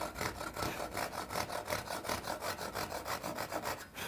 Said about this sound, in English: I can start sawing, and as I'm doing so, I'm lowering the saw